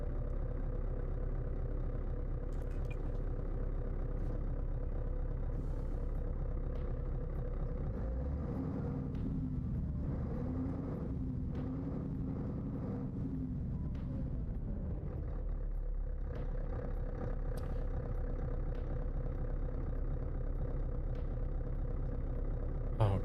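A worn, abused-sounding truck engine idles in Euro Truck Simulator 2 with an engine mod, a steady low rumbling drone that swells briefly in the middle and then settles back, continuous and without speech.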